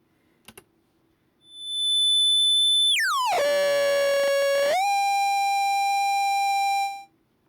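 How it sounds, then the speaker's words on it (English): A no-input mixing board feedback loop on channel 3 acting as an oscillator: after two small clicks, a steady high tone holds, then sweeps sharply downward into a lower buzzing pitch that settles into a sustained whine before cutting off abruptly. "If I construct a feedback loop on channel 3, one of our standard oscillators,"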